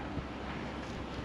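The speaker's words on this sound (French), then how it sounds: "Parce qu'il y a beaucoup de vent." Steady wind gusting across an open winter pond at the carp-fishing spot, a continuous broadband rush with no other clear sounds.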